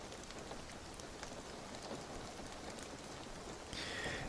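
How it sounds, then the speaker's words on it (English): Steady rain played as ambient background noise, a continuous even patter with no voices, swelling slightly louder near the end. "I don't think anybody's going to complain about rain and snow noises."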